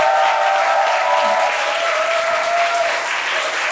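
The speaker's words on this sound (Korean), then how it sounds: "함께 우리 선교사님 나오실 때에 여러분 큰 박수로" Steady, dense applause from a church congregation during a Wednesday worship service, welcoming a missionary to the front; the clapping fills the room continuously with no pause, and a faint tone hums underneath.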